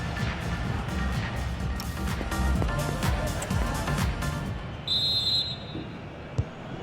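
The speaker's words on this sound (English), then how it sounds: "And there's the whistle, and that will do it for the first half." Referee's whistle blowing for half-time in EA Sports FC 26 during Atletico Madrid vs Manchester City, one clear shrill blast cutting through steady stadium crowd noise.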